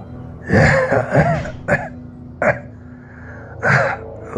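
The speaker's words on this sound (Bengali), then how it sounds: "ওহ, এই কাশিটাই মনে হয় প্রাণটা ছিনিয়ে নেবে।" A man coughs and clears his throat in several close, harsh bursts, rough hacking spread over a few seconds with short pauses between them, and no words are spoken.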